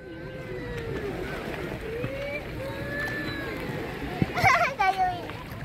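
Boat on the water at Port Dickson as people board, a low engine hum and lapping water heard beneath children's and adults' talk, with a brief louder burst near the end.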